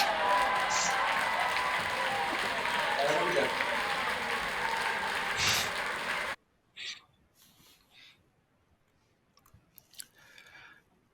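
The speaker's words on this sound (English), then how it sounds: "unmute your microphones and a round of applause" Applause at a virtual graduation ceremony comes through many unmuted microphones as a dense, rough wash for about six seconds, then cuts to near silence broken by scattered small sounds and faint voices.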